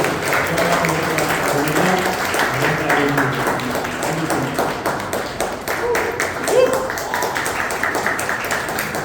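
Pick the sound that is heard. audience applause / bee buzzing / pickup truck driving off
audience applause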